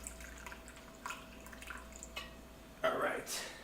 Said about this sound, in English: So we're just gonna add a little bit of warm water.